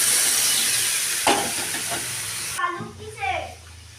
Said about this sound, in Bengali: এখন আমার এই সবজিগুলো ভাজা হয়ে গেছে এখানে পরিমাণ মতো জল দিয়ে দিলাম